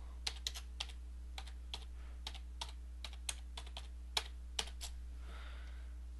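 Someone typing a title on a computer keyboard: a quick irregular series of close, crisp key clicks over a low steady hum, with no talking.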